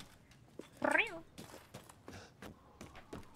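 A single short, high meow from Resident Evil Village rings out clearly, surrounded by faint clicks and soft background sounds.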